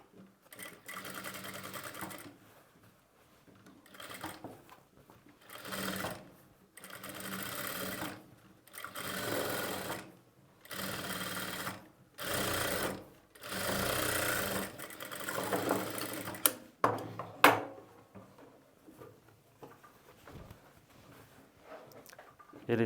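Sewing machine stitching thread piping onto a square neckline, running in repeated bursts of steady mechanical whirring separated by short pauses, close and clear.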